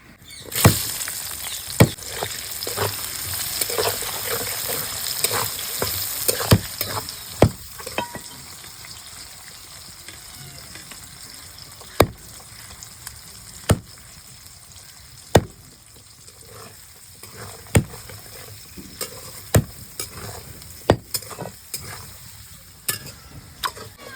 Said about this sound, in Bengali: গোটা মশলাটা একটু ভেজে নিয়েছি এবার পেঁয়াজ কুচি দেবো